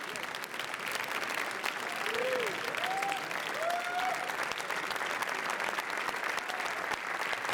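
Sustained applause and cheering from a crowd along the red carpet at the Cannes film festival, a dense, even clatter of clapping with a few whistles rising above it.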